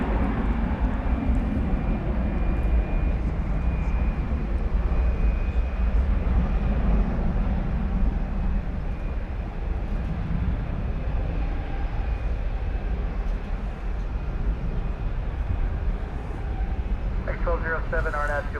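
A UPS Boeing 757 jet at DFW Airport at night gives off a steady low engine rumble and broad roar that holds through the whole long stretch, with a faint tonal whine over it.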